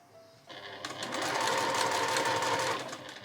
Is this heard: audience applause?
no